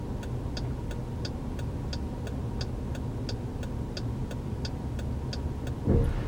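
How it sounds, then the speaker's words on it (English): An SUV's turn signal indicator ticks in a steady, regular rhythm throughout, set against a low rumble of the vehicle, with a brief louder thump near the end. "The vehicle will turn to the right once more, using the indicator once again."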